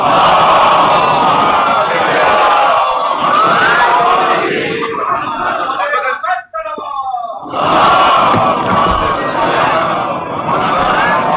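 A large crowd loudly chants salutations in unison at a religious gathering, voices swelling together, with a short dip into quieter murmuring before the full chant returns.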